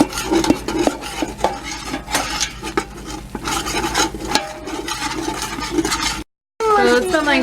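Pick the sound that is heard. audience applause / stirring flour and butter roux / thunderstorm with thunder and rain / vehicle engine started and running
stirring flour and butter roux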